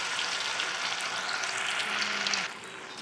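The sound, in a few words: fish frying in oil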